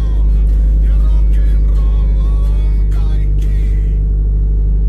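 Car engine idles steadily in the My Garage game, a constant loud low rumble under someone speaking throughout.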